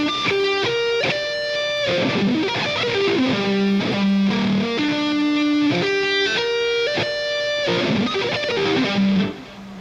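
Electric guitar played through a distortion amplifier, picking a continuous arpeggio with rest strokes in a fast shred style; bright, sustained, loud notes that step up and down in a steady rhythm, alone with no talking.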